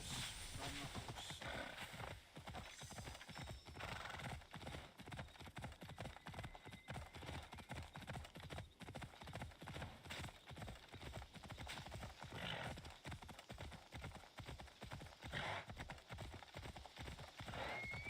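Rapid, rhythmic hoofbeats of a galloping horse in a video game continue throughout, with an occasional neigh rising over the steady clip-clop.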